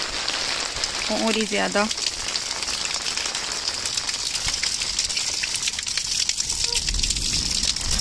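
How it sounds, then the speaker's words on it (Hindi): Rain at the start of a thunderstorm falls in a steady, loud hiss over rooftops and fields, with someone speaking briefly over it. "सिंपल बारिश स्टार्ट हुई थी, अभी गरज चमक स्टार्ट हो गई है।"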